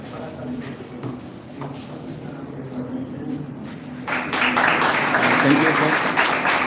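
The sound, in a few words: students applauding at a university seminar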